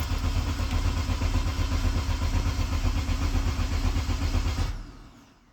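A 2004 Mercedes C230 1.8 supercharged engine cranks steadily without firing, the starter whirring at an even pace for close to five seconds before cutting off into quiet.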